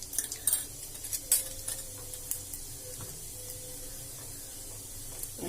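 Cumin seeds crackle in hot oil in a pan, a faint spitting sizzle with a few sharper pops early on, then a quieter steady hiss, heard close with no speech.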